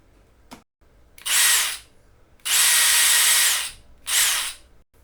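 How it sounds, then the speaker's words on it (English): A power drill backs screws out of side panels in three bursts of high whirring, the middle burst longest, with short quiet gaps and a faint click before the first. "I need to take these side panels off with my trusty power drill"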